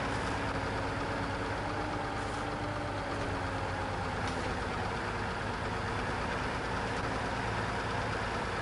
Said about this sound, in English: This is why I've got the biggest engine, by the way.